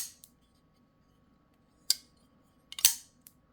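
Kizer DLC Hawk folding knife dropping shut, a few crisp metallic clicks and snaps spaced across quiet pauses, close and distinct, with a louder double click near the end.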